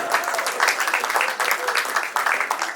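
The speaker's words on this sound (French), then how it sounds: "Et on peut encore une fois les applaudir," An audience applauding at an anniversary celebration, a steady dense patter of many hands clapping throughout, with a voice briefly heard over it.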